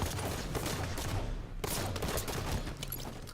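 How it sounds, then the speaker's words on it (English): Rapid bursts of gunfire crackle continuously in a Halo 5 free-for-all match, with overlapping shots and no voices. "I heard gunshots coming from this direction"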